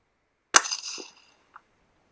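A 17HMR Lithgow Arms rifle fired at a rabbit gives one sharp, loud crack that tails off over about half a second. A faint short knock follows roughly a second later, with silence around both.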